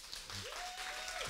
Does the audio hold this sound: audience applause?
yes